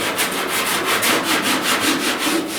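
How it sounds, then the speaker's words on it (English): Light sanding of body filler on a truck cab corner during dent repair, a steady rhythmic scraping of even back-and-forth strokes, close and alone. "I'm going to start just some light sanding here"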